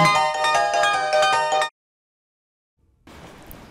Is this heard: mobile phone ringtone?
yes